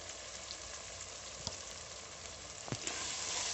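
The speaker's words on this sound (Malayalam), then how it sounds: "എല്ലാം കൂടി ഒന്നുകൂടി ഒന്ന് വഴറ്റിയെടുക്കാം" Onions sautéing with turmeric, coriander and chili powders in a pot for a pressure-cooker chicken biryani, giving a steady soft sizzle with a few brief stirring scrapes, close and alone with no voices.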